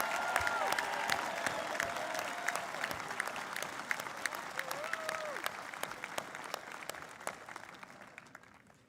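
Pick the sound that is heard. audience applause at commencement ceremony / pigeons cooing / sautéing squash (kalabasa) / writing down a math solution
audience applause at commencement ceremony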